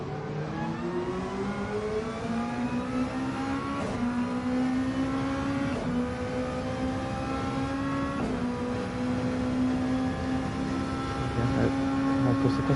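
Onboard race car engines in a GT1 racing video game at an Australian circuit, a steady loud high-revving drone with rising pitch sweeps and brief shift dips every couple of seconds, continuous throughout with no talk.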